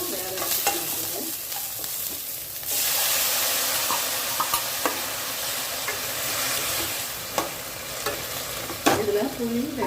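Broad beans frying in a pan with mustard seeds, curry leaves and onion, a loud steady sizzle that jumps up partway through, with a spoon scraping and stirring in occasional sharp clinks.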